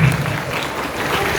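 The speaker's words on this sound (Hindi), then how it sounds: "तालियां जोरदार" Loud applause from a gathered crowd at an Independence Day celebration, a dense, steady wash of clapping that fills the short moment without a break.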